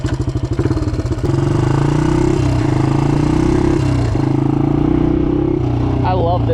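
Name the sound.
motorcycle engine running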